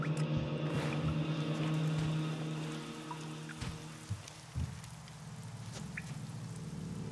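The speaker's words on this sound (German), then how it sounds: "Es regnet ziemlich oft in letzter Zeit." Rain in the video game Elex falls as a steady, soft patter with scattered drips and light thumps, a constant wash of sound with no voices.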